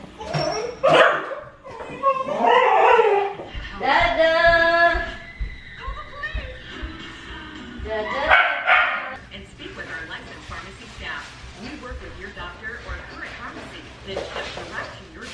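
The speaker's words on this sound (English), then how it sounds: "Look at this happy dog." A happy, excited dog barks and yips in a home, several sharp barks and whimpers near the mic, mixed with people talking throughout.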